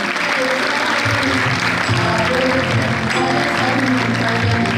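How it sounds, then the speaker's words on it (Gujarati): Sustained applause from a crowd at an awards ceremony during the lamp-lighting, loud and dense throughout, with voices faintly mixed in. "જોરદાર તાળીઓથી એમને વધાવીએ."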